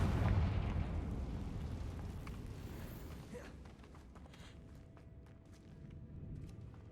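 A Confringo fire spell exploding in Hogwarts Legacy, inside a cave: a loud booming blast that rumbles and decays over several seconds, followed by scattered crackles and debris clatter.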